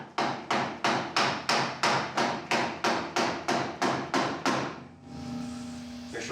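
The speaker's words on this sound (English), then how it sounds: "I want to get a few low taps this way." A hammer taps on a car's outer cowl panel during a replacement: about fifteen quick, evenly spaced metallic strikes, close and fairly loud, followed by a brief steady hum with no talk.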